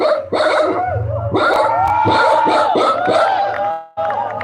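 Several dogs bark loudly and repeatedly nearby, with overlapping yips and yelps in a busy, agitated chorus.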